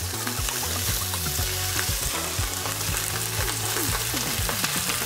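Crispy-skin salmon sizzles and crackles steadily in a hot pan on a stove, with a few clinks and scrapes of a utensil over the continuous frying noise.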